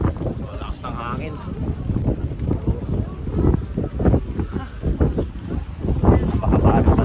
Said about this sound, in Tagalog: So lakas ng hangin.